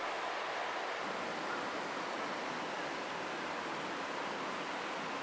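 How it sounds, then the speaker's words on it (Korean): Steady rushing water, like a mountain stream flowing over rocks, with a constant broadband hiss and no voices. "계곡물 소리가 자꾸만 발길을 끌어당깁니다."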